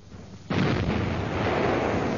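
A heavy artillery shell explodes: after a quiet half second a sudden deep boom breaks out and rolls on as a loud, sustained rumble of blast and debris, with no voices.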